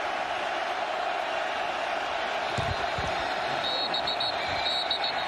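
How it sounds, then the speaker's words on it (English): Football stadium crowd at an XFL game in Seattle swelling into a loud, sustained roar ahead of a long third down, broad steady noise with scattered cheers and whoops from a distance. "Crowd gets loud."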